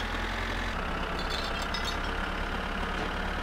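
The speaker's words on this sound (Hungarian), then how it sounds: "Pörögjön fel az a motor!" Struggling car engine in the driving game My Summer Car, a steady low droning rumble that holds continuously at a strained, even level throughout, loud and alone with no voices.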